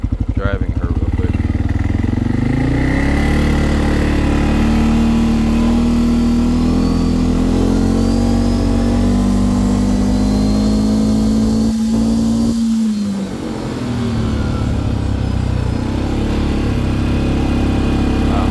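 A 2025 CFMOTO CFORCE 600 ATV engine runs close by while riding, a loud, continuous rumble whose pitch rises and holds before easing off, with wind buffeting and a voice speaking over it.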